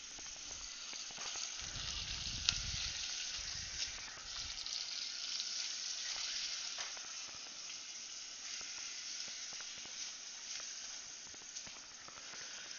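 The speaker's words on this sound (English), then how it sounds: "so let's get this chicken backbone in here." A chicken backbone sizzles in a very hot pan while a roasted butterflied chicken is being cooked, giving a steady, broad frying hiss throughout with a brief low thump near the start as the bone goes in.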